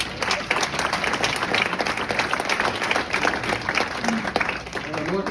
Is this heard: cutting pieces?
no